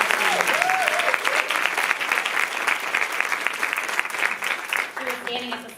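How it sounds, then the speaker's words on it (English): A White House event audience applauds Leteria with steady, dense clapping that gradually eases, while a voice speaks briefly over it at the start and again near the end. "can we give Leteria another round of applause?"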